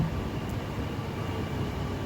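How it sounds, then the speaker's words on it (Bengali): A Kochi metro train arrives at the station with a steady, loud broadband rumble that holds evenly throughout and has no voices over it. "সো 5 মিনিট ওয়েট করার পরে ফাইনালি আমার মেট্রো আইছে।"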